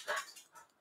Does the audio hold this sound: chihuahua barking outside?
yes